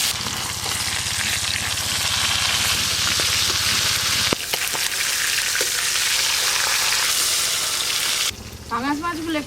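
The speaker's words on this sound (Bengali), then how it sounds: "পাঙাশ মাছগুলো একটু ভালো করে লাল লাল করে ভাজা করবো" Pangas fish sizzles steadily in hot mustard oil in a pan, a loud continuous crackle close by that cuts off near the end, where a voice briefly speaks.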